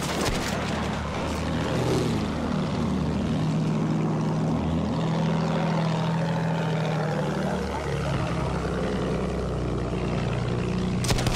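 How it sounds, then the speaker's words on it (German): Attack plane in the video game Battlefield 1 roaring overhead on the Albion map, a steady loud propeller-engine drone holding throughout with a faint tonal shift as it passes. "Vorsicht, Flugzeug!"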